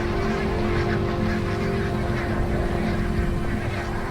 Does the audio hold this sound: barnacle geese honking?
yes